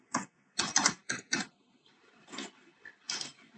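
Keys clacking on a computer keyboard in short bursts of quick taps with brief pauses between them, close and clear with no talk.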